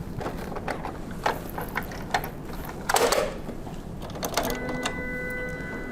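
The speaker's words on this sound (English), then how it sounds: "Finally, we'll reload the cardstock and close and lock the printer." A card printer is closed and locked after cardstock is reloaded, with a series of plastic clicks and clunks, one louder latch snap near the middle, then a faint mechanical hum.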